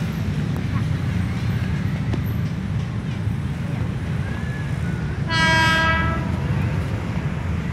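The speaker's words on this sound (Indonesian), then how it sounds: "Tetetet kereta api." Train approaching a crossing, with a steady low rumble under chattering voices and a loud horn blast near the end.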